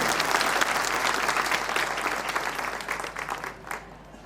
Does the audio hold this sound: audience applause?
yes